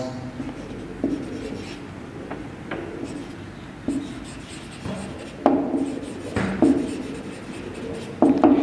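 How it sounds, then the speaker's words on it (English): Pen writing a sentence on paper, close scratchy strokes with intermittent taps and pauses as words form, quiet room hum beneath. "Now when I write this sentence"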